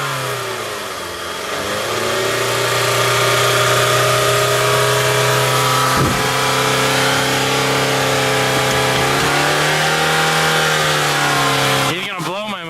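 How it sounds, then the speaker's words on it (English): A car engine revs up and holds at high speed for several seconds, close and loud, then drops back toward idle near the end, where a few sharp bangs cut in. "Jeffrey's gonna rev up the motor,"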